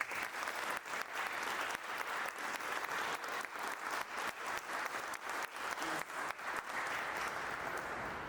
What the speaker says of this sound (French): je vais vous demander de vous lever et les applaudir